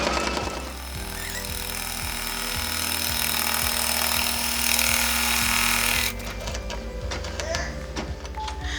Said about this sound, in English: I'm going to run my placement stitch